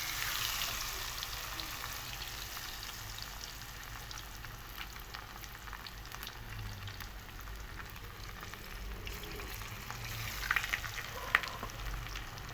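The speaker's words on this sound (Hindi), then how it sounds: "अब इसको हमने 1-2 मिनट के लिए हम फ्राई होने देंगे।" Marinated fish pieces fry in hot oil with a continuous dense crackling sizzle and a few sharper pops near the end, with no speech over the frying.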